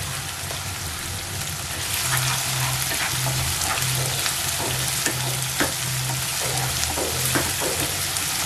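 Onions sauté in plenty of oil for tomato rice, a loud, dense sizzle punctuated by repeated spatula scrapes and knocks against the pan, with a low hum underneath and no one speaking.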